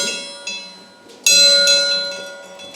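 A small bell at one of the Meteora monasteries in Greece is struck twice, loud and close, each bright metallic ring leaving a long shimmering decay.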